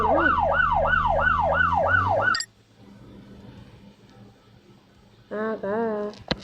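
A police car siren in the Police Simulator video game wails in a rapid, rising and falling cycle, cuts off abruptly, and after a quiet stretch briefly yelps again.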